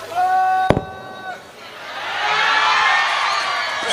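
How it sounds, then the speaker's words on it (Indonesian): A crowd at a Javanese Islamic religious gathering (pengajian) in Sumberharjo, Prambanan, Sleman applauds for Abah Miftah. A sharp knock cuts off a tonal sound, then a broad wash of clapping swells and holds steady. "Tepuk tangan untuk Abah Miftah."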